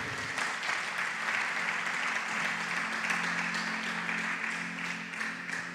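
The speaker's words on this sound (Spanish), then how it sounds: "Ese aplauso es para el Señor" A church congregation gives the Lord a steady, full round of applause, dense and sustained from start to finish with no talking over it.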